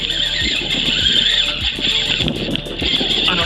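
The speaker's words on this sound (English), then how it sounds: "That's the sound of braid whistling through the rod tips." Braided fishing line whistling through rod tips on a rainy saltwater striper trip, a steady high-pitched squeal running throughout with rhythmic pulses, over rain and boat background noise.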